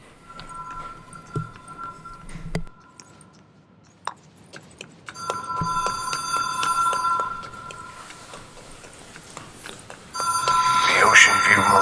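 A telephone rings in the video game Control, repeated electronic trills cycling on and off across the scene with ambient game sounds, growing louder and busier toward the end while someone talks over parts of it.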